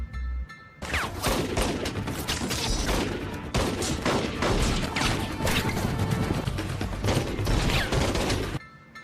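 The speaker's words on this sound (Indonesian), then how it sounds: "Dan aksi baku tembak pun tak terhindarkan." A gunfight shootout in the 2003 action film Bad Boys 2: dense, sustained bursts of gunfire with crashes and impacts, loud and continuous for about eight seconds without talk.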